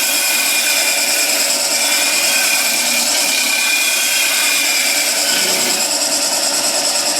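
A woodturning lathe runs steadily while a skew chisel cuts across the spinning wood, throwing off shavings, giving a continuous loud hissing, scraping whir with no voices.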